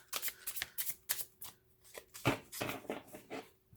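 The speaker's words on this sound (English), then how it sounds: "Just kind of doing this quick little bitty shuffle here." A deck of tarot cards gets a quick, small shuffle, giving bursts of crisp riffling and flicking in an irregular rhythm. The sound is close and alone, with no voices.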